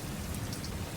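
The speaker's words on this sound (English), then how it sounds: "The torrential downpour seemed to come out of nowhere." Torrential rain in a video game pours in a dense, loud, unbroken hiss of drops beating on surfaces, heard up close with no other sounds.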